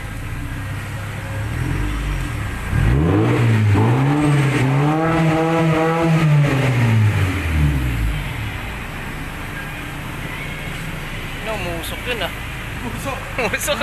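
A Honda Civic SiR with its stock exhaust pipe removed revs up hard, climbing and falling in one loud, raspy sweep at close range, then drops back to a rough idle.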